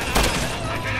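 A short burst of rapid gunfire in Resident Evil 6 during Chris's campaign, loud and dense, with one strong early blast over a continuous crackling backdrop of combat noise.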